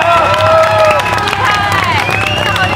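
A studio audience on a Taiwanese television game show cheering and clapping for a contestant, a dense, loud, sustained crowd roar with musical tones underneath and voices mixed in.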